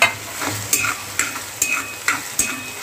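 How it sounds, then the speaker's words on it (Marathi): Tomatoes fry with onion in oil in a pan while a spoon stirs them. Six fairly regular scraping strokes sound close and clear over a continuous sizzle. "तेल सुटेपर्यंत आपल्याला हे टोमॅटो यात भाजायचे आहेत, चांगले फ्राय करायचे आहेत."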